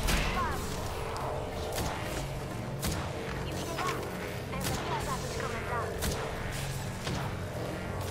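Rapid gunfire from a video game firefight, sharp repeated shots and thuds at a steady level throughout, heard beneath excited players talking over it.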